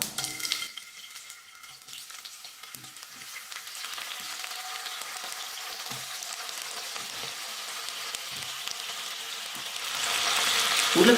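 Potato slices frying in hot oil with popped mustard seeds give a steady close sizzle that builds louder toward the end, with occasional soft stirring scrapes.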